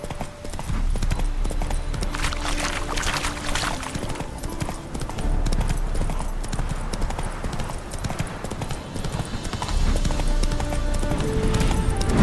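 Horse hooves clip-clop steadily and loudly in the Witcher: Hearts of Stone video game, a continuous trotting rhythm over a dense ambient game soundscape.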